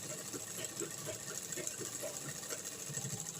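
A sewing machine runs steadily, stitching a seam in skirt fabric, with a continuous whirring hum and fast rhythmic needle chatter, fairly close and faint.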